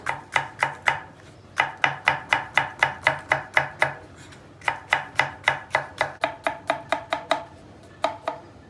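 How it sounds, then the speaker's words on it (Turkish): A knife chops onion and peppers, a village green pepper and half a red kapya pepper, on a board in steady fast bursts of crisp close taps with brief pauses between runs. "Kabağımızı, havucumuzu doğradık, soğanımızı doğruyoruz."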